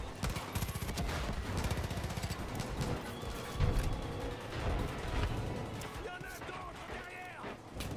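Gunfire in the video game Far Cry 5, shots and bursts crackling steadily through a dense, loud mix of game sound, with a voice talking over the action.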